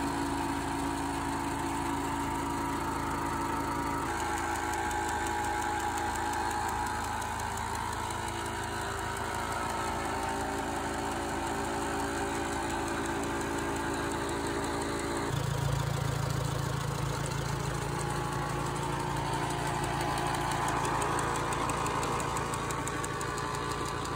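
A tractor powers an antique sticker molder and tenoner in a sash and door shop, its engine droning steadily with a mechanical hum that shifts in pitch partway through as the machinery works.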